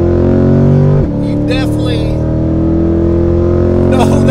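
Chevrolet Corvette C8 fitted with a Borla sport exhaust, engine droning loud and steady near the microphone with a brief dip and rise, while someone talks over it.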